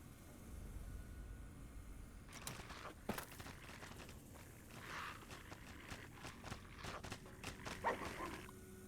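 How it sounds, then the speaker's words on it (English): Cyberdogs barking in Fallout: New Vegas, a run of sharp yips and barks scattered across the middle and end, fairly quiet over a low hum of background noise. "Release the cyber dogs too."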